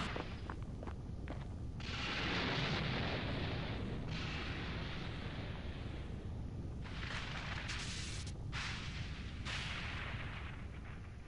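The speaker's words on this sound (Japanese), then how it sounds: "しかし無情にもナメック星は爆発し" Planet Namek exploding in the Dragon Ball Z: Kakarot video game, a loud continuous rumbling roar of blasts and debris that swells and surges for several seconds.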